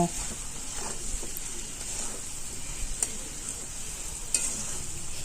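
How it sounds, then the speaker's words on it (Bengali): Potatoes tossed with ground pepper and Kashmiri chilli powder frying in a pan, a steady close sizzle with occasional spatula scrapes and taps as the mixture is stirred. "কিছুক্ষণ ধরে ভালো করে ভেজে নেব"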